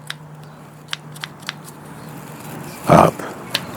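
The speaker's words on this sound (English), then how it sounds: "I'm going to cut it like halfway" A blade cutting partway through foam for a boffer sword: faint light ticks and scratches, then one louder dragging, tearing cut near the end, close up with no voices.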